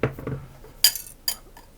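A utensil stirring baking powder, spices and salt into flour taps and scrapes against a mixing bowl, three short clinks at close range with quiet gaps, no talking.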